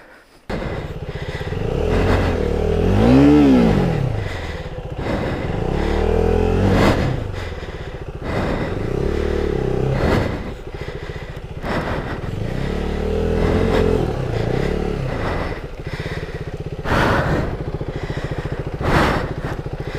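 A KTM Duke 390 single-cylinder motorcycle engine revs repeatedly while riding off-road near Mole Creek, Tasmania, with loud rising and falling throttle bursts and gear-change dips across the whole stretch.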